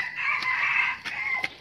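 Chickens crow and cluck close by, one long sustained crow followed by a few short sharp calls, loud and without speech over them.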